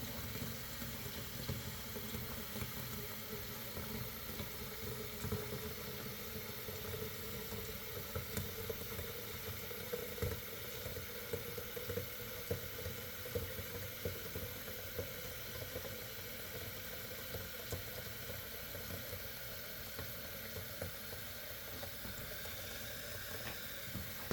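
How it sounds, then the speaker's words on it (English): A countertop reverse osmosis water system flushing for the first time gives a steady, continuous hiss and rushing of water with a faint mechanical hum underneath, unchanging throughout and with no voices. "So we're basically flushing the machine for the very first time."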